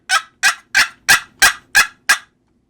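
Wooden turkey box call played loud and close: seven sharp, evenly spaced yelps in a quick rhythmic run, each a short raspy note, with silence after the last.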